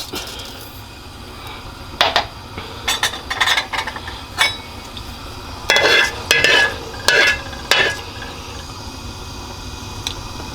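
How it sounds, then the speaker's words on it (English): Fenugreek (methi) seeds roast in a pot for a shrimp curry, giving a steady low sizzle broken by several sharp scraping stirs and clinks of a utensil against the pot, close by with no talking. "put some meti in the pot and let it roast up a little bit"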